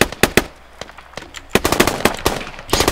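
Rapid bursts of gunfire from enemies in the Squad military shooter game, a dense mix of sharp near and distant shots in irregular volleys, with no speech.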